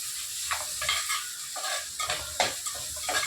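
Onions and tomatoes sizzle and fry in a pan, with a stirring utensil scraping and clinking against the metal in irregular bursts. No talking.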